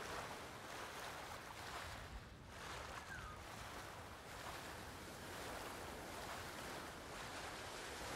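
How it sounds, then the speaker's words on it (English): Ocean waves in the video game Ghost of Tsushima wash and roll continuously, a soft broadband surf with gentle swells rising and falling throughout and no talk over it. "The waves, like, move you to one side."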